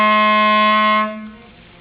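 Clarinet holding a low B as one steady, sustained reed tone, played alone, then fading to quiet near the end.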